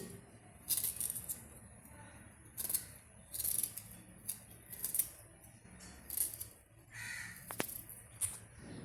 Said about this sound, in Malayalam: ചെറുതായിട്ട് ഇനി ഇഞ്ചിയുണ്ട് അതും ഒന്ന് അരിഞ്ഞിടാം ചെറിയ കഷ്ണം ഇഞ്ചി